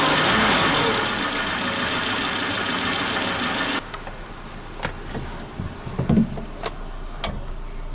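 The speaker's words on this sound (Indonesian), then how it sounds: "Ini sebelumnya udah saya tinggikan ya RPM nya, jadi ini tinggi, agak tinggi idlenya." A Suzuki Katana motorcycle engine with a fouled spark plug idles at raised RPM, a steady close mechanical drone that cuts to a quieter idle midway, with occasional clicks and knocks.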